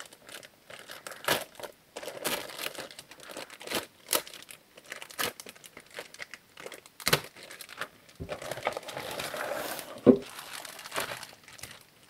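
A ball-shaped cardboard toy box being opened by hand, with close, intermittent crinkling and rustling of cardboard and packaging, sharp tearing snaps and a brief faint voice near the end.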